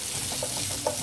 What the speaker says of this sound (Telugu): ఉల్లిపాయలు కొంచెం వేగనిద్దామండి.